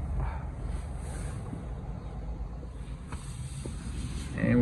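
Automatic car wash jets spraying water over a 2018 Chevy Trax, heard from inside the cabin as a steady, dense rushing hiss with a low rumble that swells slightly louder at the very end.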